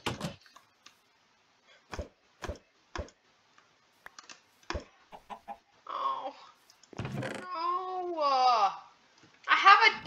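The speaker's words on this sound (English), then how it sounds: "Chicken in here already" Chicken clucking in a Minecraft-style building game, several short warbling clucks in the second half after a string of sharp clicks, with a voice briefly audible.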